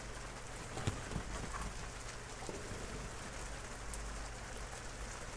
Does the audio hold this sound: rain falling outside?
yes